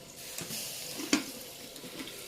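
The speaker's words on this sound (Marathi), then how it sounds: "पॅनमध्ये आपण कांदा मसाला, थोडी हळद आणि थोडा सब्जी मसाला घेतलेला आहे" Onion masala, turmeric and sabzi masala frying in a pan for a spicy matki rassa curry, with a constant gentle sizzle and a few stirring clicks, one sharper scrape in the middle, no speech.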